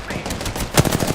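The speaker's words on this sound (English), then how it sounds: "Getting shot at." A quick rattle of gunfire in the shooter Apex Legends, several sharp shots in a tight burst lasting about a second, close and fairly loud.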